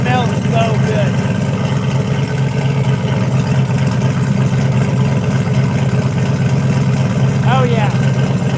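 An E85-fuelled car idles after a cold start at 17 degrees, a steady low rumbling exhaust close by running unbroken throughout, with someone talking over it.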